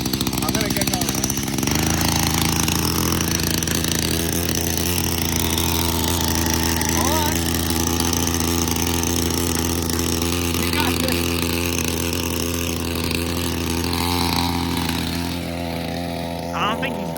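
A homemade motorized scooter powered by a string trimmer motor through a 3-to-1 gear ratio, its small two-stroke engine buzzing loud and continuous while people talk over it.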